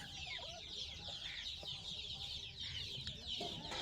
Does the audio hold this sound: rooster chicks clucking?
yes